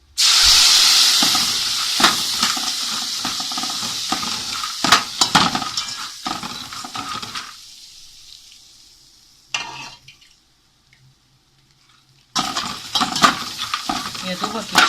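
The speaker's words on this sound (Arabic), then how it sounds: "احنا العيش هنديه دوبك بالمرقه" A spoon stirs and scrapes through bread in a pot as broth is added for Egyptian fatta, giving busy clinks and soft wet scraping with a hiss, then a near-silent pause before the clatter resumes.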